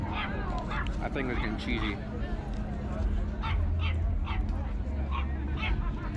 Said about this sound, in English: This dog's going off right now.